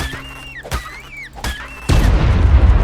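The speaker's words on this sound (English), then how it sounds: "there's explosions" Explosions going off in the video game Ark: Primal Nemesis, a few sharp booming thuds early on, then a loud sustained blast rumbling through the final second, heard alone with no talk.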